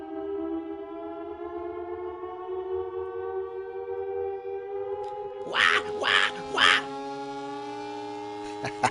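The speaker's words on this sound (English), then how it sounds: "There's sirens and alarms, so I wanted to try some new concepts." Military sirens and alarms from the video game The Last of Us, a sustained wailing tone that slowly rises in pitch, cut by a few short bursts of louder noise near the end.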